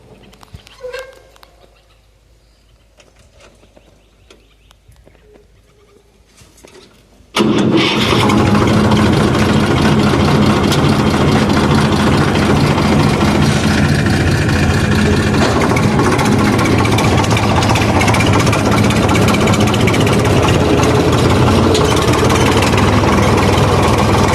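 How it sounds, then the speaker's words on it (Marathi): A quiet, faint background gives way to a tractor engine firing up abruptly, then running loud and close at a steady, rough idle for the remaining time. "तर चला काय आता नेऊया ट्रॅक्टर"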